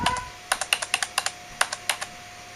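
Keys clack on a computer keyboard hooked to an HP board running Windows 95, about a dozen crisp, evenly spaced taps close up over quiet room hiss.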